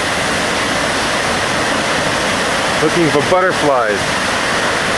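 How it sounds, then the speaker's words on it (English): Steady broadband rush of a waterfall pouring over rocks in Brazil, continuous and loud throughout, with a brief spoken voice partway through. "Watching the water rush over the rocks"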